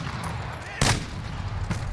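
Gunfire in a Modern Warfare Hardpoint match, two sharp close shots spaced almost a second apart over background game noise.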